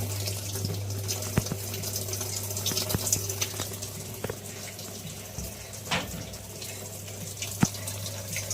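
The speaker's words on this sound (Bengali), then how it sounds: "এবারে অনেক জোরে স্পিডে জলটা নিচ্ছে।" Water rushes at high speed into a Haier top-load washing machine through a newly fitted inlet valve, a steady close hiss and hum with scattered faint clicks and knocks.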